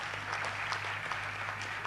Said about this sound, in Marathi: पण एकदा जोरदार टाळ्यांचा गजर आज